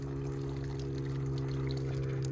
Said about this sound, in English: right now I'm having to dump the excess water out of these guys